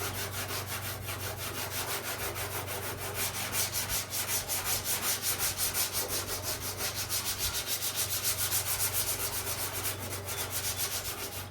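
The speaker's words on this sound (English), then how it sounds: "So I'm just going to take my 220 block here and again cross" Hand sanding sealer on wood using a 220-grit sanding block, a steady rasping rub in back-and-forth cross-pattern strokes that continues close and even, with no talk.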